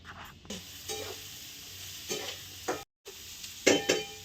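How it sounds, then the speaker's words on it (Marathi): Onion frying in a pan for a soybean vegetable dish, with soft, steady sizzling and occasional stirring scrapes, a brief gap of silence partway through, and no talking. "कांदा भाजायचं चाललंय"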